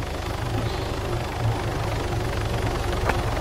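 A helicopter engine and rotor drone loudly and steadily throughout, close and unbroken, with no voices over it.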